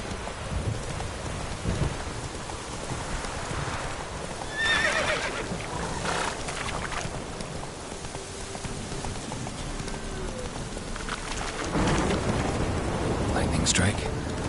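Thunderstorm in The Witcher 3 with steady rain and rumbling thunder bursts, plus a horse whinnying and snorting nearby; heavy ambience fills the scene with louder cracks near the middle and end.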